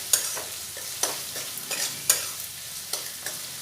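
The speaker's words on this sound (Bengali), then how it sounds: "দিয়ে একটু নাড়াচাড়া করে মিশিয়ে নেব" Onions and tomatoes with salt being stirred in a pan for a village-style duck curry, a steady sizzle with repeated sharp scrapes of the spoon at regular intervals, close and clear with no talking.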